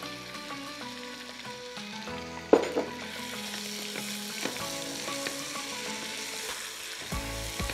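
Onion frying in a pan for lentil soup, a continuous sizzle with a brief louder burst as it goes in, followed by stirring scrapes, close and alone without speech.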